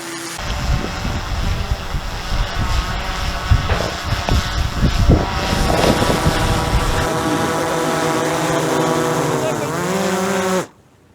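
An Anubis drone flies over a battlefield, its loud droning buzz layered with harmonic whine that shifts pitch up and down, mixed with rumbling thuds early on and cutting off abruptly at the end.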